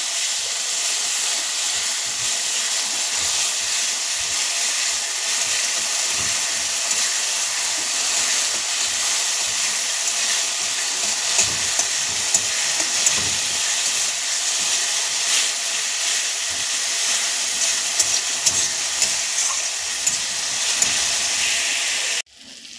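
Spices with chopped onion, garlic paste and ginger paste fry in hot oil, a steady loud sizzle and hiss that carries on unbroken before stopping abruptly at the end.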